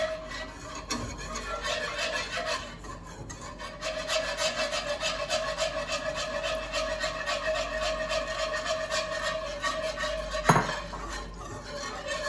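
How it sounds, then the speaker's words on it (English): Milk being whisked slowly into a casserole sauce in a metal pan, a continuous scraping, rhythmic whisk rubbing with one brief clank, close and without talk. "Whisking it in there. Notice how slowly you're going."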